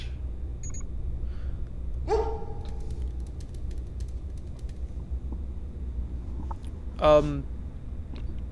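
In the game Replaced, a dog gives a short bark, then a louder yelping bark a few seconds later, over a low ambient game hum with no speech.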